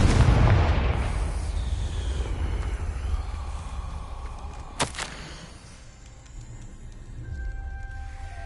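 A Confringo fire spell in Hogwarts Legacy bursting with a deep boom that fades into a rumbling tail, followed later by a sharp crack, heard with no talking over it.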